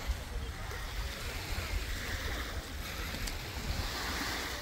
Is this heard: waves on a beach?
yes